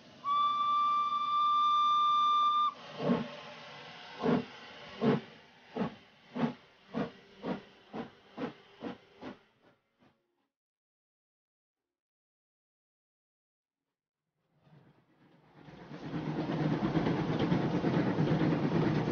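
A steam train whistle blows loud and close, then chuffs in a steady rhythm that slows and fades out; after a stretch of silence a running train's rumble and hiss swells back in, loud and continuous.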